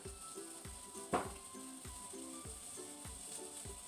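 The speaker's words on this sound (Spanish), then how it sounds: "Vamos a poner un poquito de aceite para que se vaya sofriendo." Chopped onion and green bell pepper sauté in oil with a soft, steady sizzle, faint and close, broken by one brief louder hiss and light rhythmic background music.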